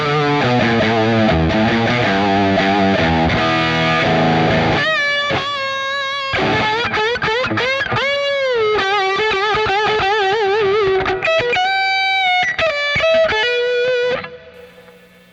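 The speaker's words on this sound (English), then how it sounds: "This distortion does it so good." Electric guitar with humbucker pickups through a heavy distortion pedal plays chugging chords, then sustained bending lead notes, thick and saturated, before cutting off.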